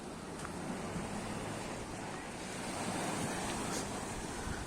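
Rough February sea surf rolling onto Levante Beach, a continuous broad wash of breaking waves mixed with wind buffeting the microphone, steady and fairly loud throughout.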